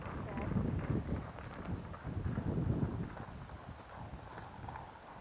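Horse hooves clip-clop in a steady forward rhythm during a riding lesson, mixed with broadband outdoor noise and some wind.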